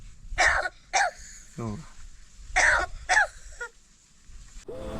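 A crow's harsh, cough-like calls come in a few bursts, imitating a human cough, with short gaps between them and a low rasp in between.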